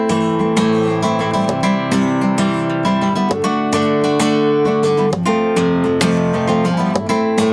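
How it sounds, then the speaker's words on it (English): Percussive taps on an acoustic guitar body mixed with strummed, ringing chords, a steady rhythmic pattern played alone at close range with no voices. "So when it's a tap by itself, not in conjunction with another finger, it might sound like this."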